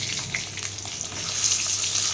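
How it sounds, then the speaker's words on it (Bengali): Eggs frying in a pan for an egg curry, browned until reddish, give a steady broadband sizzle and crackle that holds on without a break and grows slightly louder toward the end, with no voices. "এখানে দেখো ডিম ভাজছি"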